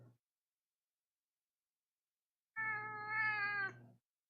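A cat close to a computer lets out a single long, loud meow after a moment of silence, preceded by a brief faint sound.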